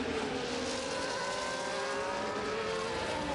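A Ferrari race car engine drones steadily in a racing game, a smooth continuous high-revving whine that climbs gradually, fairly faint and heard alone.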